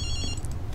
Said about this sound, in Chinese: 即刻就电话响。